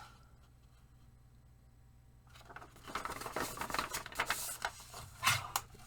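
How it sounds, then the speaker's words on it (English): A paper trimmer slices through a strip of paper while crafting an owl-nest page, a quiet start giving way to a burst of close, crisp sliding and scraping cuts. "I am going to do my paper trimmer. And cut a"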